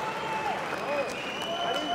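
Audience applause at a Grand Prix fight event, a steady wash of clapping and crowd noise running throughout beneath a commentator's voice.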